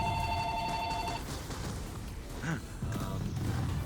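A telephone rings with a bright, steady electronic trill for about a second, then stops, heard over a busy game soundscape with muffled booms and a voice speaking.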